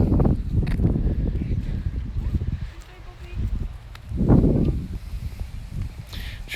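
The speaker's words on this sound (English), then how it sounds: "Sorry for the wind on the channel if it's a bit loud" Wind buffeting a microphone outdoors on a walk past water where swans gather, low rumbling gusts that swell and fade in waves, loud and close, with occasional rustling.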